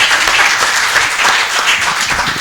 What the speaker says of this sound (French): on n'a pas assez applaudi pour la professeure